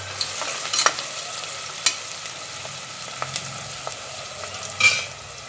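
Whole spices for mutton curry (bay leaf, cinnamon, cloves and shahjeera) frying in a pan. A soft, low sizzle runs throughout, with a few sharp scrape and stir clicks scattered across it.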